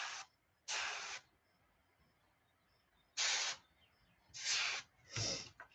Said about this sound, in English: I think I put too much pigment in this airbrush.